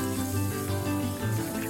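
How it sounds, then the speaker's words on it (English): Tap water runs steadily into a kitchen sink, a soft continuous splashing stream heard close and fairly quiet. "Fill the sink with water"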